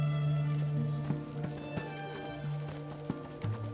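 Horse hooves clip-clop in The Witcher 3: Hearts of Stone on PS4, an irregular run of soft hoof beats under a steady game music drone and ambient tone.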